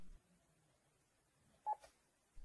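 A single short key beep from a Panasonic KX-TES824 phone system keypad, a faint quick tone standing alone in a quiet room.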